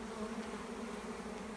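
Honeybees carrying pollen loads buzz around a parked truck on an early morning, making a steady, dense hum that holds at an even level with no breaks throughout.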